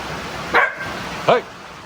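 Dogs on a farm give two sharp barks about a second apart, close and loud against quiet background.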